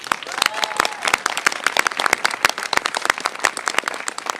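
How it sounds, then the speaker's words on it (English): A small crowd claps at a Lowe's store grand opening in Fort Lincoln, individual hand claps distinct and close in a brisk uneven patter, with faint voices underneath. "Let's give them a round of applause."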